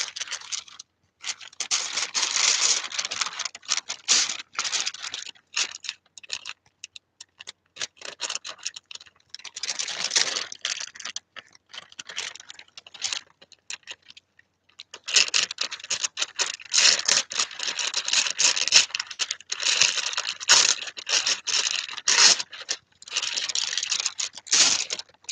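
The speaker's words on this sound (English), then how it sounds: "I think what I might do is rip part of it off, because otherwise I've got a lot of paper to play with" Tissue paper being torn and crinkled in long, close, continuous bursts of ripping and rustling, with a brief lull in the middle and no talking.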